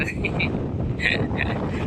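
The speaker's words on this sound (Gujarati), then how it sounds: "મસ્ત પવન આવે છે 11 વાગે ટાઢો ટાઢો એકદમ" Wind gusts buffet the microphone in a low rumble at Rangbai beach in Porbandar, while a person talks nearby.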